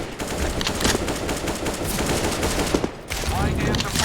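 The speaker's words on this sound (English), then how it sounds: "Laying down some fire." Gunfire in a Valorant-style tactical shooter playtest, rapid shots crackling continuously for several seconds with a brief gap near the end before resuming.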